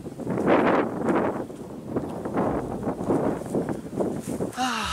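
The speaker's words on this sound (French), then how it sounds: "Ah, le vent fait du bien." Gusty wind buffets the microphone on a hilltop walk above Apt, rising and falling in loud rumbling bursts throughout, with a voice briefly heard near the end.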